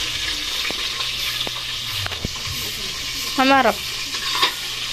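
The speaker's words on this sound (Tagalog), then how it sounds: "Si mama naman po ngayon ay nagpiprito. Ito na po yung kanyang napipritong isda." Milkfish (bangus) sizzles as it fries in a pan, a steady crackling hiss with occasional clatters of utensils and a brief voice speaking over it.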